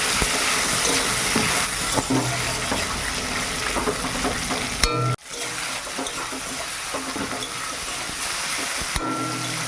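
Ginger pieces fry in hot oil with turmeric, giving a loud, continuous close-up sizzle and crackle with occasional stirring, a brief dip in the middle before the frying noise resumes.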